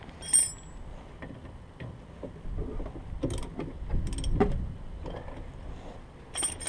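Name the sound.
ratchet tightening brake caliper bolts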